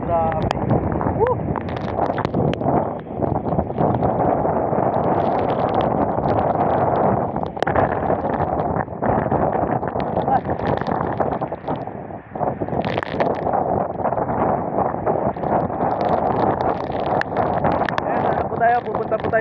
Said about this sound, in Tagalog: Sobrang lakas ng ulan. Lakas ng hangin.